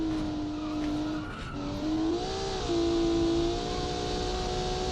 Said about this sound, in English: I can only hear that terrible brake sound when he's braking.